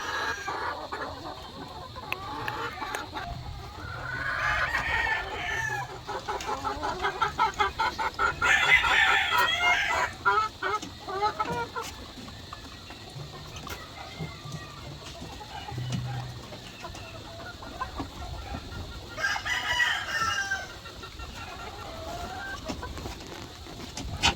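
Chickens cluck steadily nearby, with bursts of louder calling and a rooster-like crow rising over the flock's ongoing chatter; no one speaks.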